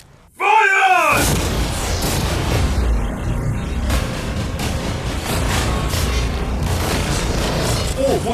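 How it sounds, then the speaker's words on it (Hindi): Cannons firing at a new yacht, a sudden loud boom breaking out after a short pause, followed by a sustained rumbling roar of blasts and impacts, heavy and close throughout. "ठीक है शॉन, अब हम तुम्हारी नई यॉट पर कैनन्स को शूट करने वाले हैं।"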